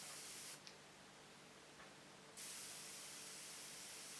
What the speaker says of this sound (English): If I bring this in close, slowly bring on the paint